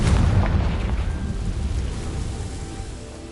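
Confringo explosive spell going off in Hogwarts Legacy on PS5, a loud booming blast at the start followed by a rumbling, crackling decay that slowly fades over a few seconds.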